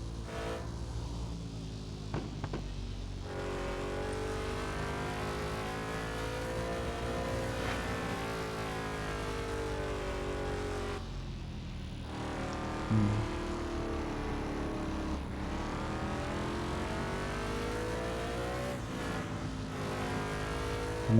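Racing cars in a video game overtaking one another, engines whining in sustained rising and falling pitch sweeps as gears change, steady and loud with no break.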